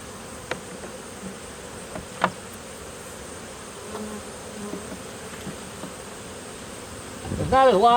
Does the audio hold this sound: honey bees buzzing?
yes